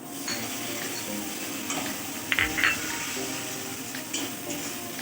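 Ginger paste and spice masala sautéing in a pan for a Bengali vegetarian dhokar dalna, giving a low steady sizzle with a few light scrapes and clinks of stirring near the middle and end.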